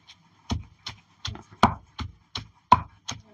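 Lentils pounded by hand in a stone mortar, nine sharp, evenly spaced thuds of stone on stone about every third of a second, close and distinct with quiet gaps between.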